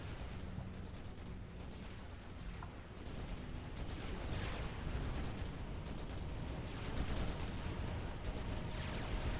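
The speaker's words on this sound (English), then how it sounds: "The battleship firing in and hitting absolutely nothing sometimes." A battleship in the strategy game Forged Alliance Forever fires artillery, giving a steady run of heavy booming shots and rumbling impacts that pile up into a dense, continuous barrage.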